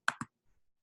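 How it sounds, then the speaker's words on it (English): Two quick, close mouse clicks on a Chrome browser button while installing an extension, sharp and dry with a short gap between them, followed by near silence. "you just add the extension by clicking this button"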